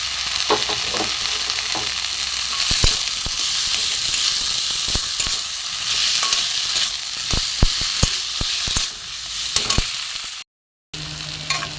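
Boiled kohlrabi and potato sizzle loudly while being fried with spices in a pan, with repeated sharp scrapes of a spatula stirring, close up and with no speech.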